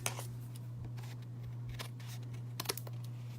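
Scissors snipping excess paper from the back of a handmade card, a few quick crisp cuts near and fairly quiet over a steady low hum.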